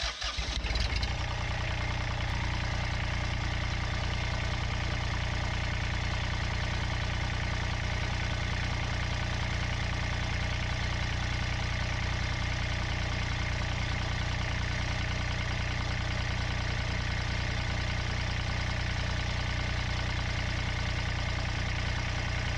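A Kubota D1105 diesel engine on a ZD1211 mower idles steadily and close by, a continuous, even low rumble with no pauses, no voices and no change in pace.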